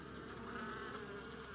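Honey bees buzz steadily and close at the entrance of a hive in autumn, a dense continuous drone with no voices.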